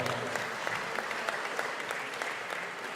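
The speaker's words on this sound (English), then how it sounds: "Ladies and gentlemen, round of applause." An audience applauds basketball players at a game, a steady, moderately faint wash of clapping through the whole moment with no pause.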